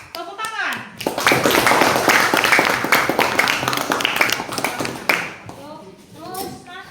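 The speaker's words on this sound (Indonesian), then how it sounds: "Ya, tepuk tangan." Applause from a group breaks out after someone speaks, dense clapping for several seconds before fading as speech resumes.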